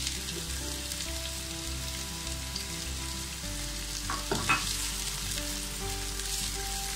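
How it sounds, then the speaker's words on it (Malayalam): Onions sizzle and crackle steadily in a hot pan with garlic while making spaghetti, a continuous frying hiss with a brief stirring clatter midway; no talking. "ഇനി നമുക്ക് ഇതിലേക്ക് സവാള ഇട്ട് കൊടുക്കാം."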